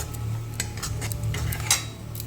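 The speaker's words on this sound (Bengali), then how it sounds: "চলো পেঁয়াজটা খুব ভালো করে এখন ভেজে নিই" Onions for a Bengali tender goat mutton curry fried in a pan, with repeated metallic scrapes and clinks of a spatula over a steady low hum, close and moderately loud, no talking.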